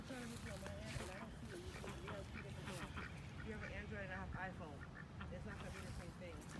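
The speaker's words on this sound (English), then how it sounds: "about to feed the ducks and the swans" Ducks quack and honk at Lake Morton where swans gather, a busy chorus of waterfowl calls heard beneath people chatting nearby in a continuous outdoor din.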